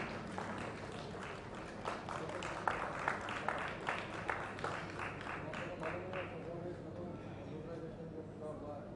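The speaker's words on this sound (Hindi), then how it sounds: "तालियों से स्वागत करें और इनका उत्साह बढ़ाएं।" Audience clapping at an inauguration event as a guest is welcomed onto the stage, a steady patter of many hands that rises and then thins out, with a voice speaking over it.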